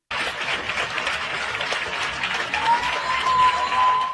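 Sustained applause from many people clapping together in a clap for carers tribute to NHS and care workers, dense and steady throughout with a faint whistle-like tone near the end.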